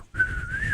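A person whistles one short, sustained note that wavers slightly in pitch, heard alone and fairly close for under a second.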